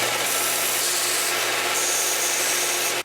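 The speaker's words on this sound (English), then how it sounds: "Back to my favorite piece of equipment in the entire shop, which is the belt sander." A shop belt sander shapes a Kydex holster, giving a steady, loud abrasive rubbing whine that stays continuous and close throughout, with no talking.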